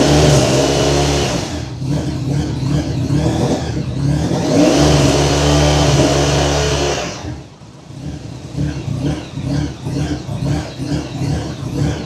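A Honda engine revs at a rough, unsteady idle, surging and hunting as the throttle is held slightly open, then dropping and pulsing in an uneven rhythm, loud and close with no talk over it.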